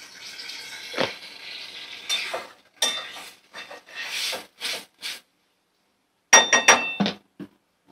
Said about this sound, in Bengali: ভালো করে নাড়াচাড়া করব, ভালো করে নাড়াচাড়া করে মিশিয়ে নেব।